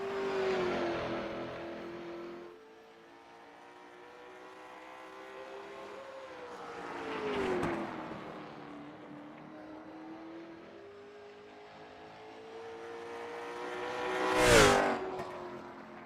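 Late model stock cars roar around North Wilkesboro Speedway, engines swelling as they pass near and fading between, with three distinct passes and a sharp close whoosh near the end; loud, rising and falling laps, no talking.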